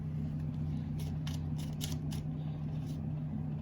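A small deck of tarot cards shuffled by hand, a run of quick riffling snaps and flutters close by over a low steady hum, no talk.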